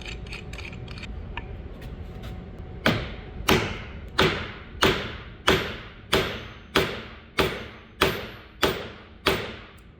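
Wooden splines pressed and tapped into a tight guitar neck joint on a 7-string baritone guitar build; about a dozen sharp, evenly spaced knocks follow a quieter stretch, each a crisp thud with a short ringing decay, close up.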